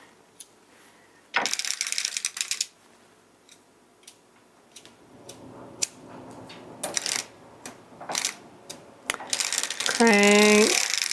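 A circular sock knitting machine being hand-cranked: irregular bursts of clicking, ratcheting mechanical clatter close by, separated by quieter pauses, with a brief voiced sound near the end.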